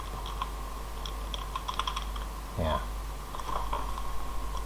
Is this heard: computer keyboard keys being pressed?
yes